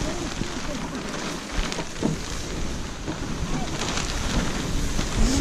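Gusty wind roars and buffets the microphone in uneven bursts, with a few faint voice fragments mixed into the noise.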